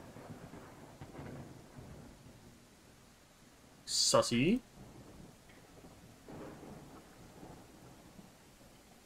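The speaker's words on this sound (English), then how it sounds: "It suddenly started raining." In the video game Wandering Sword, a thunderclap cracks loudly midway through a thunderstorm over a soft, steady rain backdrop, while a voice speaks faintly.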